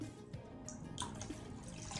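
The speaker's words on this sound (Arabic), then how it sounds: "وزيها بالظبط كوباية مية" A cup of water poured into tomato paste for homemade ketchup, a short close splashing and trickling pour with soft dripping, no talking over it.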